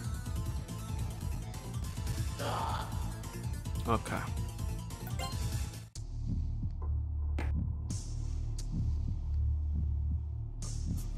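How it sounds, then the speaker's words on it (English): Low, steady heartbeat thumping in a Shin Megami Tensei: Persona game, pulsing under game music and effects while someone talks over it for much of the stretch. "I very much do not like the heartbeat in my ear"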